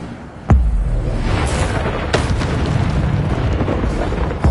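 An Incendio fire spell goes off in a video game: a sharp, loud blast followed by a sustained roaring rush, with a second burst about two seconds later.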